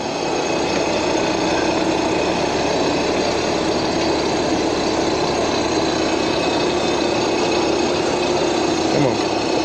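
An air conditioner compressor running sluggishly during a coil replacement, giving a loud, steady mechanical drone that continues unchanged from start to finish.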